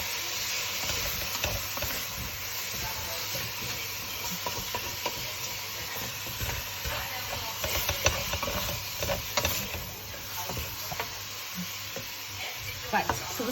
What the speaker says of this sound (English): Give it a mix because it's really hot in my pan.